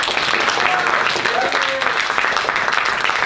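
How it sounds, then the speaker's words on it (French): An audience at a youth theatre performance applauds in a steady, full burst of clapping lasting throughout, with a few voices calling out over it. "Donc on l'applaudit une dernière fois."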